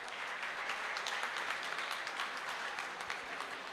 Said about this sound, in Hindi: इनके लिए एक दफ़ा जरूर जोरदार तालियां।